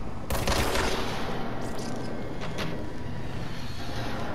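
Gunfire in the game Control: a dense, continuous burst of rapid shots starts abruptly and rattles on at steady loudness for several seconds, with faint voices barely underneath.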